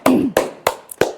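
Four sharp, close hand claps sound from an audience at a Korean master class on lifting treatments, spaced about a third of a second apart with quick decays and no talking.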